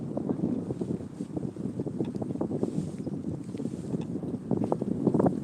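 Cold winter wind rushes across Lake X, buffeting the microphone with a steady, rough roar that rises and falls in gusts throughout.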